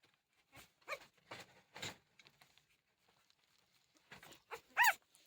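Several short, soft yelps and whimpers from a puppy close by, scattered across a quiet background, with one sharper squeal near the end.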